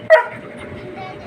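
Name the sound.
large dog barking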